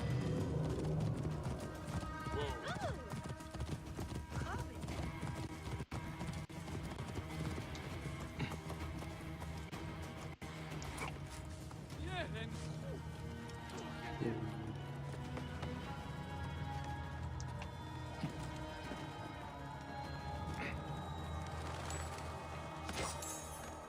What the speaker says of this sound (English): I just ran along on my horse.